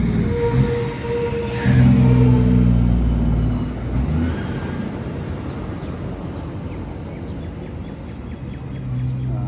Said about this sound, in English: Sorry if this truck's a bit loud. I'll wait till it goes past.